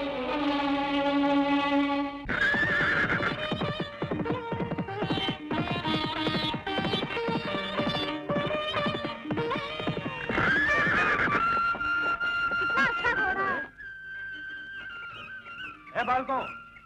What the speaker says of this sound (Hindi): बालको, ये राजा रामचंद्र के अश्वमेध का घोड़ा है, छोड़ दो इसे।